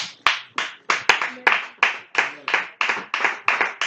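A church congregation claps in unison to acclaim Jesus, about a dozen loud, sharp claps in a steady, even rhythm, close and with no talk.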